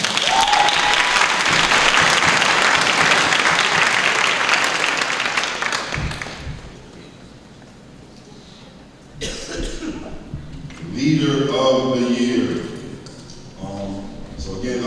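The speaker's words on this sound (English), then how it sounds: "So another round of applause for Tyler." Audience applause at a student award ceremony rings out loud and dense for about six seconds, then dies away, and a voice comes in afterward.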